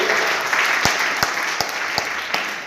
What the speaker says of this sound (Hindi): पहले तो आपके लिए जोरदार ताली बजना चाहिए